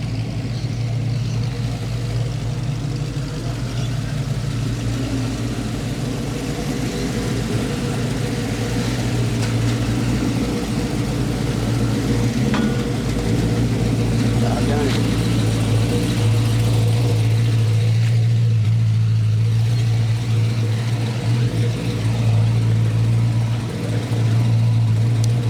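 Dodge Challenger muscle car with aftermarket exhaust at a car show, a loud, steady, rumbling engine passing close, with a deep, continuous drone throughout.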